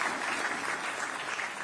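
An audience breaks into brief, dense applause, a steady wash of many hands clapping at moderate volume for under two seconds.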